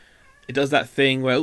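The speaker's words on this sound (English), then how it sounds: "that's our cat in the background." A pet cat meows in the background of a room, two short drawn-out cries heard close behind and partly under a person's speech.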